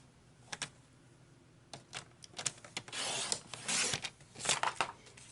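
A paper trimmer cuts a piece of cardstock in quiet surroundings: a few light clicks, then rasping, scraping strokes as the blade slides along the sheet, close up and soft.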